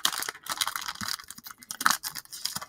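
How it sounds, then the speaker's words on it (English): Foil Pokémon card pack being torn open by hand, a close series of crinkling, ripping bursts with short pauses, no talking. "Open it from the bottom so I don't damage the thing if I can open it"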